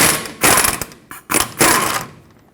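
A ratchet wrench spins out 21mm caliper bolts on a Ford F-350 brake, giving several loud close bursts of rapid clicking with short pauses between.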